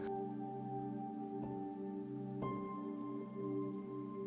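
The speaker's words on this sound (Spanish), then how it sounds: "Hagamos una relajación corporal suave acompañada por la lluvia relajante" Steady relaxing rain falling on a surface, a continuous soft patter with a sustained tonal drone underneath, no voices.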